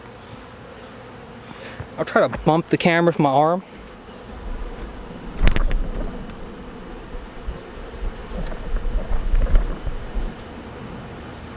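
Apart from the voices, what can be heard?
honey bees buzzing around an opened hive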